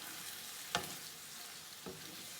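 Spaghetti sauce sizzles softly in a pan, a faint continuous hiss with two brief scraping strokes as it is stirred.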